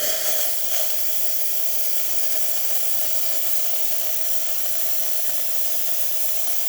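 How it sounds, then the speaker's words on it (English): Steam wand of a freshly serviced Pasquini Livia 90 espresso machine hissing steadily and loudly on its own, a continuous airy rush with a faint tone underneath. "Let's test the steam one."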